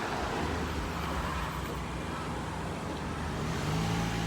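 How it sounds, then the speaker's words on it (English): Car driving past on a hilly suburban street in Paddington, Brisbane, a continuous broadband tyre and engine roar held close and steady throughout, swelling a little near the end, with no talking. "Better wait here for this car to go by."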